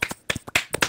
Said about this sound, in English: Let's also give Max a round of applause